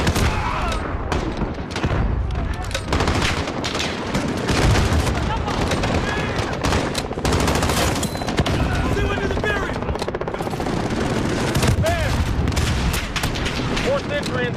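Sustained machine gun fire in Call of Duty Modern Warfare, dense rapid bursts and booming impacts rattling on continuously and loudly throughout, with game noise layered over it.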